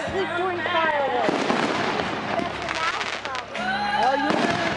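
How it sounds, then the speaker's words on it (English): Fireworks bursting in a Fourth of July show, a dense run of loud booms and crackles with whistling rises, layered under nearby people chatting throughout. "who falls asleep during fireworks?"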